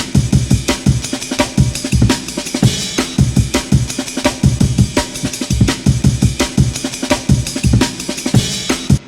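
Punchy chopped breakbeat drums with a reverberant wash, busy kicks, snares and hats in a steady groove, loud and up front.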